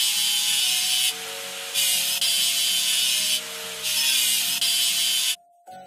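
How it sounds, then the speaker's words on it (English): Scrubbing rust off a machine in a building video game, rhythmic rasping strokes in alternating bursts, loud and close, over a faint steady musical hum, ending abruptly. "Let's get rid of the machine's rust."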